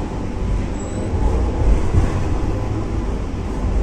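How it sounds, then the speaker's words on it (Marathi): Steady low rumble and rail noise inside a moving Mumbai local AC train, a continuous dense drone with no clear speech. "आज मी हा पहिल्यांदा प्रवास करतो एसी ट्रेन मधला"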